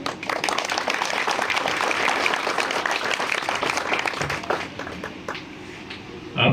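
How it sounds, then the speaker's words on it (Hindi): An audience at an Independence Day address by a company CEO breaks into sustained, dense applause that carries on evenly, thins out near the end and ends in a final burst of clapping. "अप्लॉज करते हैं, ताली बजाते हैं।"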